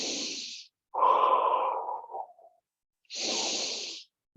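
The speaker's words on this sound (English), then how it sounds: "Breathe." Slow, deep yoga breaths taken close up, with a long inhale and a long exhale on either side of a short pause and a fresh breath starting at the end.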